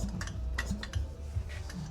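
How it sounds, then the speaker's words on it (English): A Yamaha Inviter engine, freed from seizure with its cylinder refitted, turns over while its clutch gives off a light ticking, clicking rattle in irregular bursts over a steady low mechanical rumble, close by and moderately quiet. "The little bit of noise you can hear is just the clutch."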